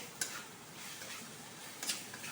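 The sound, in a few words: frying spice masala in ghee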